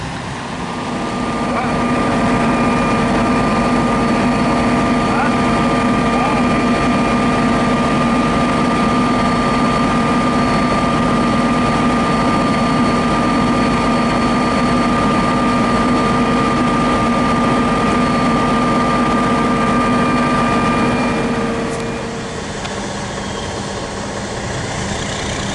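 A live bottom trailer unloads milled asphalt at a milling site, its heavy engine droning steadily with a loud mechanical hum for over twenty seconds before easing off near the end.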